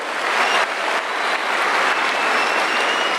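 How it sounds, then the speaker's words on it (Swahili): A church congregation at an AIPCA service breaks into loud, sustained applause for the president, dense clapping filling the hall throughout. "Tumpigie rais makofi"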